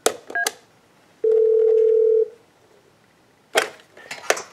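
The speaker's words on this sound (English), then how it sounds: "we can dial into the office." Dialing tones from a Yealink T21P E2 IP phone: a burst of keypad beeps, then a steady tone lasting about a second, followed by another quick cluster of button tones, all close and clear with no talk.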